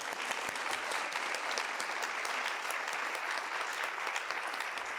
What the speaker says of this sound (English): that's a round of applause for you